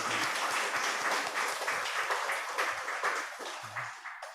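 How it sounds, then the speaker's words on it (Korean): A church congregation at a Sunday worship service applauds together, a dense, steady round of clapping that holds for several seconds before tapering off near the end. "우리 박수로 우리 한번 격려하십니다."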